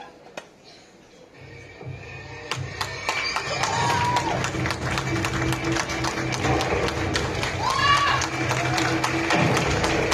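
A live audience at an Indian stage talk breaks into applause, scattered claps swelling into steady clapping and crowd noise that continues to the end, with brief voices mixed in.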